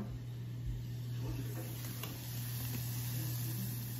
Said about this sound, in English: there's this beautiful sizzle that's happening to my garlic